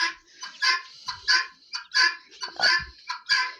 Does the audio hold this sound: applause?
no